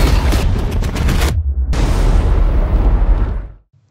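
A missile fired from a fighter jet strikes a terrorist hideout in a film, setting off a loud, roaring explosion with crackling bursts, a brief gap, then a second rumbling blast that decays into silence.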